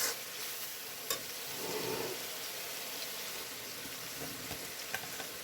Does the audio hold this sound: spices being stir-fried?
yes